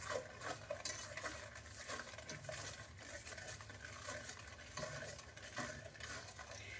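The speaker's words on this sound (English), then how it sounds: "Make sure you scrape the bottom of the pan while you're stirring it so nothing hardens or sticks on the bottom." A spoon stirs a praline mixture of pecans, powdered sugar and vanilla in a pan, scraping steadily along the bottom in a continuous close scratchy rhythm with faint sizzling underneath.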